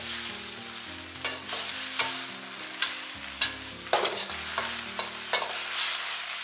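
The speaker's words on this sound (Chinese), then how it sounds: "将白菜给它炒出锅气，炒至入味" Napa cabbage stir-fried over high heat in a wok, a continuous loud sizzle broken by regular sharp scraping tosses of the spatula about once every second, close up with no voices.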